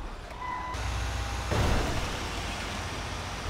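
A truck in GTA 5 rumbles with a low engine drone while a reversing beep chirps briefly near the start, followed by a louder surge of engine noise, with no voices.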